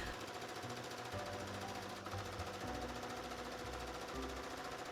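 A sewing machine stitches folded linen dress straps into long tubes with a rapid, steady, rattling chatter that runs without a break. No one speaks.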